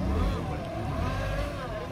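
Off-road SUV in an extreme mud challenge among Jimny, Thar, Gypsy, Fortuner and Isuzu vehicles, its engine droning steadily and loudly under light throttle through thick mud.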